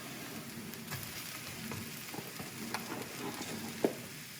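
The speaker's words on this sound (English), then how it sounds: "Now we'll cook them mushrooms down with those onion, mix it through" Mushrooms and onions frying in a pan, a soft steady sizzle with occasional stirring clicks and scrapes, fairly quiet and close, with no talking.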